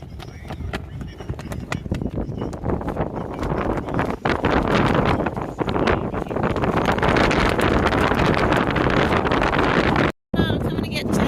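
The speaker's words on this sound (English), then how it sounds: "Did I mention it's windy?" Strong desert wind during a high wind advisory roars and buffets the microphone loudly and continuously throughout, with gusty broadband noise and a brief dropout near the end.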